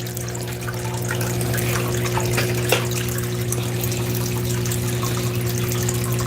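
Water runs steadily through a gold miser sluice being fed slowly while concentrating fine gold, a constant rushing flow with a pump-like hum underneath and small splashes, no talk.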